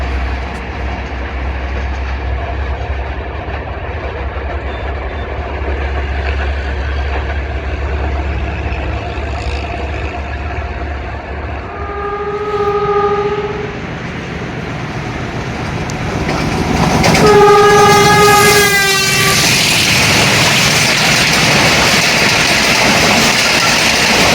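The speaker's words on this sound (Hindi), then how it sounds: "अब हज़ारा एक्सप्रेस भी बड़ी ज़बरदस्त स्पीड में पास हो गई" Hazara Express train rushing through Nur Junction railway station at high speed, a steady loud rumble of wheels building into a roaring pass with two-tone horn blasts in the middle and again near the end.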